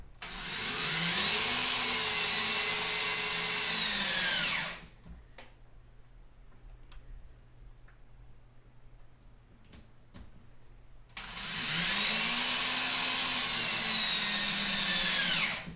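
A power drill drives 2-inch screws into a wooden dance pad frame: two long, loud whirring runs with rising and falling motor pitch, separated by a quiet stretch of light clicks and handling taps.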